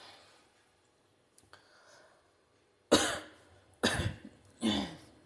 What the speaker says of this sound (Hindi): जब वॉइस ओवर करती हूँ ना तो बीच बीच में ये खांसी आती